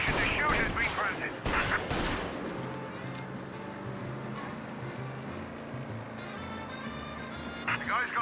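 Police gunfire in Mafia Definitive Edition erupts in loud, sharp bursts of shots early on, then thins into scattered pops over a sustained engine and road drone, with a voice speaking partway through.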